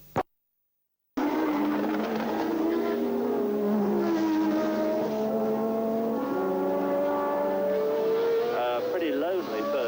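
A Formula One car from the 1981 Dutch Grand Prix howls through the Marlborough bends, its loud engine tone rising and falling as the driver shifts up to fourth and back down to second. A commentator talks over it throughout.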